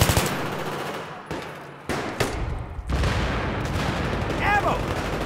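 Rapid machine gun fire from a firefight in the video game Metro starts in separate sharp bursts, then becomes a dense continuous barrage, with a voice briefly heard near the end.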